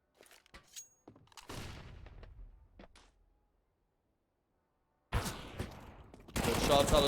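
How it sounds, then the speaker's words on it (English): Gunfire in a Counter-Strike esports match on the Train map, with sharp shots early on, then a longer burst of dense rapid fire near the end, mixed with brief game effects and a pause. "Shots out of Zords"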